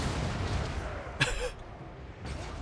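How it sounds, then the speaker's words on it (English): A cannon fires in the Warhammer 2: Total War video game: a sharp boom near the middle, then a second, weaker blast near the end, over steady battle background noise. "Okay, cannon. Shoot there."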